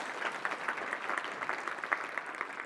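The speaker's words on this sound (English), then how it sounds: "Cherokee, a nice clap for Cherokee here" Audience applause after a lecture on ancient Egypt, a steady wash of many hands clapping at moderate distance, filling the room evenly without pause.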